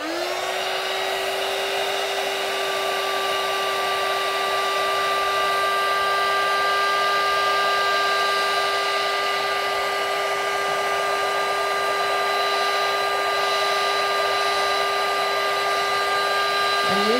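A heat tool warms a foam stamp to reset it, producing a steady, loud blowing whine that runs unbroken for the whole stretch and cuts off near the end, no talking over it.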